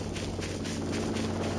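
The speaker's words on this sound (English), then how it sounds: "That's how loud this drone is." A drone flying in the video game Voices of the Void gives off a constant, loud mechanical drone with a faint rhythmic pulsing, steady and alone throughout with no talk over it.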